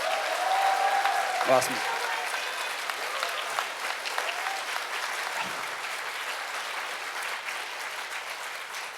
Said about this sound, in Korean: 우리 새끼에게 박수 한번 쳐주세요.